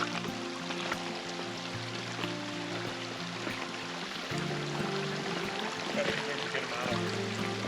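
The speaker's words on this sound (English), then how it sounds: "This is like where the water runs off the mountain" Water running off a mountainside through a natural drain and spilling down like a small waterfall, a steady rushing wash heard at moderate distance under a low, droning hum.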